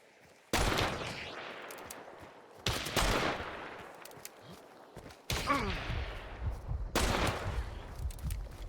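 Pistol loaded with bleed ammo firing in Hunt: Showdown, four loud sharp shots spaced a couple of seconds apart, each followed by a ringing tail over quiet ambience.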